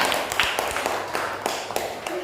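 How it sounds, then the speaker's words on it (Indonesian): Hands clap in a classroom as a short, scattered round of applause from a group of students. The claps are fairly faint and irregular. "Tepuk tangan untuk Mas Kafa."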